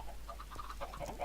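Minecraft chickens in a broken chicken farm cluck softly in short repeated bursts over a steady low background hum.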